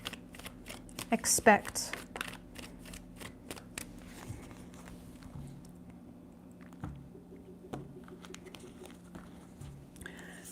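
Tarot cards being shuffled three times, a rapid papery riffle near the start followed by softer card taps and handling, with a voice speaking over the sounds.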